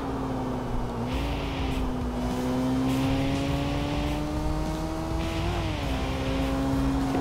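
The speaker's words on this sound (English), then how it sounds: "Listen to that engine." A race car engine in the Tokyo Xtreme Racer 3 video game drones steadily through the gears with a few brief pitch dips at shifts, rising again under a constant moderate level with no voices.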